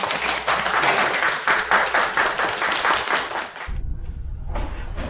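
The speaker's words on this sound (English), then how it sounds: "Let's give her a round of applause." A class or audience gives a short burst of clapping for a student, fairly close and dense for about three and a half seconds, then fades into a low rumbling background.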